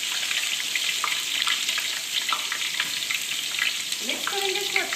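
Ginger and garlic sizzle steadily in hot oil in a large pot for a Sindhi chicken biryani, a dense close crackle with scattered pops and a brief metallic scrape near the end.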